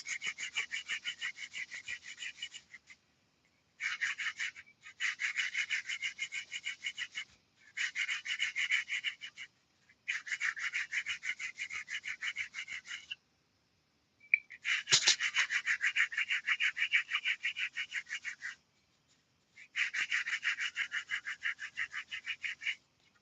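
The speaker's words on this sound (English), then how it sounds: "because we're on glass, we're going to sand back our colors" Sandpaper rubbing back paint on glass planters and bottles, heard as repeated bursts of dry back-and-forth scratching in about seven strokes separated by brief pauses, close and fairly quiet.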